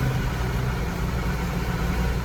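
A Massey Ferguson 1200 tractor engine idles close by, a steady, low, lumpy rumble that holds without change and with no voices over it.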